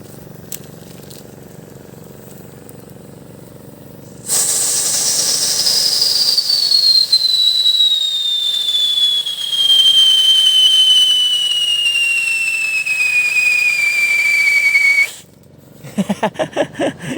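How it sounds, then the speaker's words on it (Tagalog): A badly made homemade whistling firework screeches for about eleven seconds, its loud, hissing whistle gliding steadily downward in pitch, then cuts off, leaving a few crackling pops and quiet background hiss. "Ang sipol na palpak."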